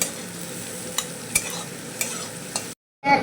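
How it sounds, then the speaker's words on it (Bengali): Onions with green chillies frying in a pan, a steady close sizzle punctuated by several crisp spatula knocks and scrapes, cutting off abruptly near the end. "পেঁয়াজটাকে একটু লাল লালভাবে ভাজতে দেবো।"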